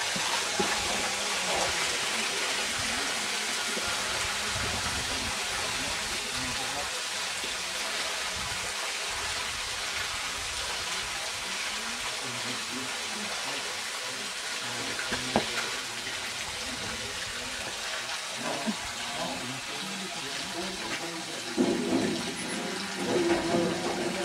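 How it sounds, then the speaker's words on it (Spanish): Clean water rushes steadily into a tank of fermented coffee beans being washed at a Tanzanian processing site, a continuous close splashing hiss with occasional knocks and no talk. "Y ahora le vuelvo a poner otra vez agua limpia."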